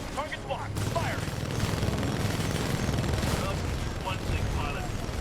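Heavy Titan weapons fire in Titanfall 2 as a dense, sustained barrage of booming shots and rumbling impacts, with short electronic tones and radio-style voices layered over the battle.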